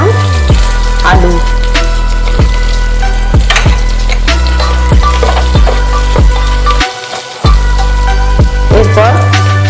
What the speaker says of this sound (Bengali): ফুলকপি প্রায় ফ্রাই হয়ে এসেছে, এবার এই ফুলকপির সাথে আমি দিয়ে দিলাম আলু